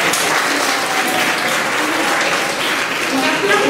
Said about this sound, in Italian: Un applauso a tutti e sindaco